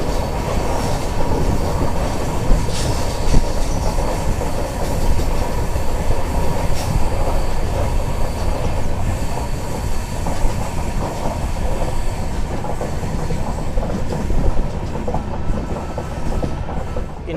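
An Indian passenger express train rolls slowly along a single track, with a steady rumble, rhythmic wheel clatter and occasional faint squeals heard from on board, continuous throughout with no talking.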